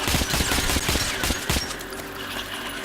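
Rapid automatic gunfire in the first-person shooter Metro Last Light, a dense rattling volley that fades into a lingering rumble and echo.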